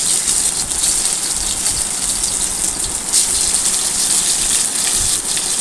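Flour dhoka pieces fry in hot white oil, a dense, steady sizzling hiss that holds close and even throughout with no speech.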